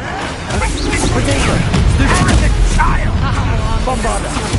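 Bombarda spell blasts in the video game Hogwarts Legacy, heavy booming explosions and crackling bursts that fill the whole clip, loud and dense, with a voice shouting over the din.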